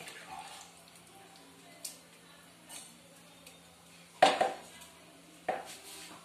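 A cooking pot of potato curry being covered with a lid, giving a couple of sharp metallic clanks over a quiet kitchen background with faint scattered ticks.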